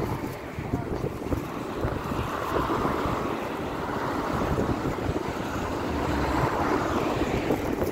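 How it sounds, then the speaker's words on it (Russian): Strong wind in a new park by Baku's railway station, a loud continuous roar buffeting the microphone with steady gusty rumble throughout. "какой ветер"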